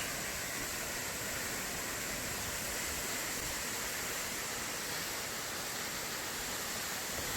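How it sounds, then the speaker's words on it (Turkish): Steady, dense roar of a waterfall dropping from a height at Erikli twin falls near Teşvikiye village, Yalova, a broadband rushing wash that stays even and unbroken throughout, close and loud with no voices. "Birinci şelale ikinci şelaleye göre yüksekten akmakta."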